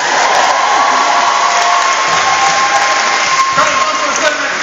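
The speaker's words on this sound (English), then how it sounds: "usually that's a big deal if people clap" An audience at a college martial arts performance applauds, a dense, steady wash of clapping and cheering that stays loud for several seconds.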